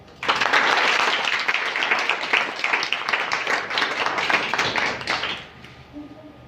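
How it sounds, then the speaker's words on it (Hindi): An audience at a women's poetry competition breaks into brisk, sustained applause after a poem, a dense patter of clapping that holds for about five seconds before fading out. "तालियां बहुत कम बजाते हैं आप लोग"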